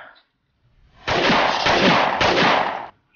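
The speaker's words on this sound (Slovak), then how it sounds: "Počul si tie výstrely?" A burst of loud, rapid gunfire in the video game Minecraft, a dense continuous volley lasting about two seconds after a quiet lead-in, close and harsh.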